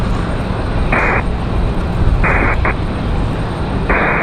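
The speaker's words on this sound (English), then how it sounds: "We have an American A321 taxiing down here, which is 1895, headed to Charlotte." An American Airlines A321 jet taxis at Raleigh-Durham airport on a windy day. A steady, loud broadband roar of engine and wind runs throughout, with a few faint tonal blips and no clear speech.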